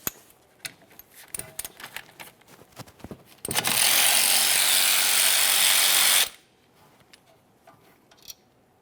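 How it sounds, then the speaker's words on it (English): A ratchet wrench loosening the 14mm caliper slider mounting bolt on the rear brakes of a 2017-2024 GMC Acadia, with scattered close clicks and clatter around a loud, continuous whirring burst of about three seconds, and no speech. "Starting along the top, we'll fully remove that bolt, start it back in just a couple threads."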